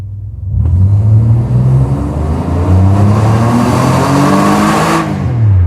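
A 1998 Alfa Romeo 166's engine turns over and catches, then revs up and down loudly and close by, rising and falling for several seconds.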